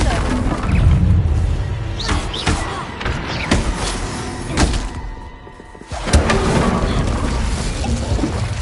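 Fiery Confringo blast spells cast in Hogwarts Legacy, heard as repeated heavy thuds and booming impacts over a busy game soundscape, with a voice shouting through it.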